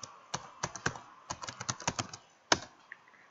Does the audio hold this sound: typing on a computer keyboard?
yes